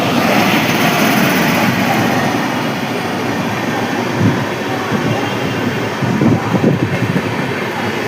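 The Howrah Gaya Express races through Rishra station without stopping, a loud continuous rumble and rattle of rail cars rushing past close by, with sharper clanks from the wheels near the end.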